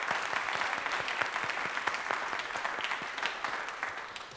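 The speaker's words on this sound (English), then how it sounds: "let's give our panelists a round of applause first" An audience at a liberal arts education panel applauds the panelists with sustained, even clapping, heard at a moderate distance with no voices.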